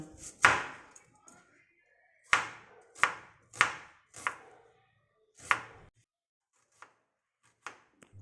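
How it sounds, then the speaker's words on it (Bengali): A knife chops two medium-sized onions on a board in a series of crisp, separate strikes: a few quick ones, then gaps and a couple of faint final taps, all close and in a quiet room. "2টো মিডিয়াম সাইজের পেঁয়াজ কুচি করে নিলাম।"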